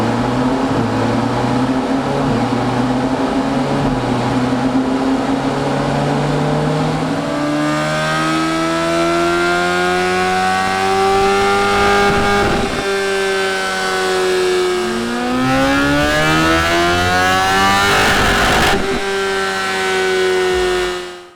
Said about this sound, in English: It's time to run it again on the dyno to see what we've actually achieved.